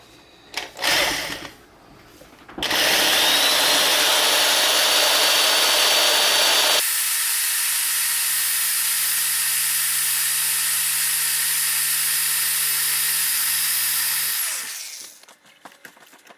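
A power drill fitted with a 9/64 bit bores out a stuck screw on a Delta Brizo kitchen faucet, a steady close whine running for about twelve seconds after a few brief starts, then cutting off.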